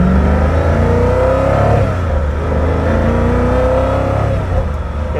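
Exotic sports car engine revving hard while accelerating, a loud deep roar that climbs in pitch, eases briefly, then rises again through the gears, heard from close by without speech.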